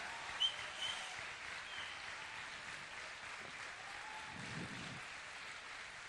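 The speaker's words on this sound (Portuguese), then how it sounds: "Mais forte, igreja, vamos aplaudir." A church congregation applauds during a conference service, a steady, fairly soft wash of clapping that carries on evenly with no voices over it.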